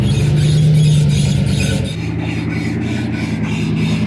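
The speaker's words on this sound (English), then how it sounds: "Don't mind the squeaking. Front driveline squeaking a bit." A loud, steady mechanical squeal from a truck's front driveline while off-road wheeling, grinding continuously with a rhythmic rubbing pulse as the vehicle moves.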